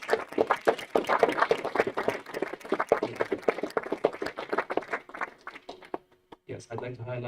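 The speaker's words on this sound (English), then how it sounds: "Maybe big applause." An audience at hackathon pitches claps steadily in a dense, close burst of applause that thins out and fades toward the end, with a few scattered claps and murmurs after.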